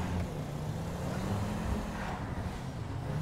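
A modified car engine in GTA 5 drones at a steady low idle, a deep continuous rumble with a slight rise in pitch partway through.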